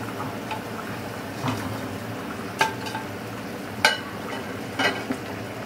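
Fish pieces going into a simmering Bengali fish curry with potatoes, a soft bubbling sizzle broken by a few distinct taps and clinks as each piece is placed in the pot.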